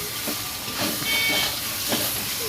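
Raw chicken dropped into a pan of hot spiced masala paste sets off a steady, loud sizzling hiss, with a few soft thuds and scrapes as pieces land, in a village kitchen.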